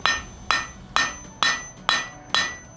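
A smith's hammer planishing a forged steel blade: six crisp, ringing blows at an even pace about half a second apart, each decaying quickly, up close with nothing else audible.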